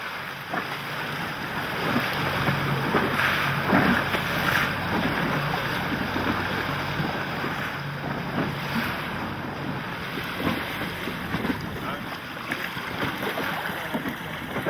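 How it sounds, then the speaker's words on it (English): Steady wind roars over open water with waves sloshing against a moving sailboat, a replica of a 6th-century BC Greek boat, a continuous broad rush with occasional thumps and creaks. "The wind picks up and the Gyptis is sailing at a regular pace."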